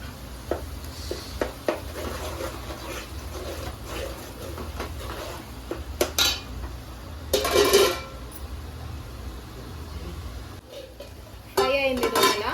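Turmeric frying in oil in a pan while cooking chepala pulusu, a Telugu fish curry: a low steady sizzle under scattered metal clinks and scrapes of a spoon stirring, with a brief louder rattle near the end.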